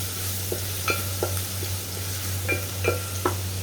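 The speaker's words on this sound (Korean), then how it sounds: "마늘을 넣어서 마늘을 볶을 거예요" Garlic stir-fried in a pan for a sweet potato stem dish, a steady low sizzle under scattered scraping stirs of a utensil against the pan, close by with no talk.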